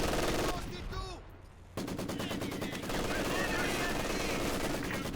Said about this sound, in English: Maximum's usually pretty good at getting these head-to-head machine gun battles though